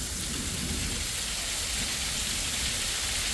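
Steady rain pours down during a desert thunderstorm, a dense, loud, unbroken hiss of drops on surfaces with no speech over it.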